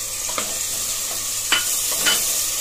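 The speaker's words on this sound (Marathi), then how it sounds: "अद्रक लसूण पेस्ट चांगली आपली शिजली की मग आपण त्याच्यामध्ये हे टोमॅटोची जी प्युरे करून ठेवले ती घालूया." Tomato puree fries with cooked ginger garlic paste for biryani masala, a soft continuous sizzle under a few brief scrapes of a spatula stirring the pan, close and quiet, with no talking.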